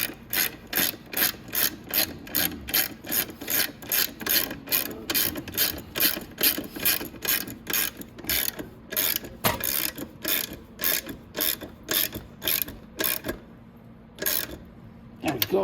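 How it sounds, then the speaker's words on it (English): A hand ratchet tightens the axle on a Venom motorcycle, clicking in a long steady series of quick back-and-forth strokes, close and clear with no talk, before a short pause and a final few clicks. "Now I'm going to go ahead and I'm going to tighten up my axle."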